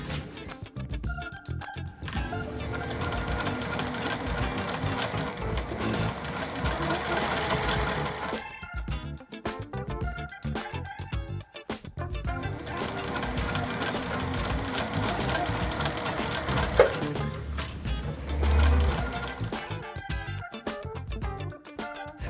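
A sewing machine stitches quilt block pieces together in long, loud, continuous runs, stopping briefly twice between seams, with faint voices now and then.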